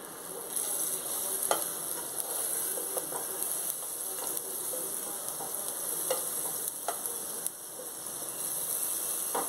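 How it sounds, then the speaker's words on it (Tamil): Butter melting and sizzling in a pan, a continuous soft crackle and hiss with scattered small pops and occasional stirring scrapes, fairly quiet and close, no talking. "பட்டர் கொஞ்சம் மெல்ட் ஆகட்டும்."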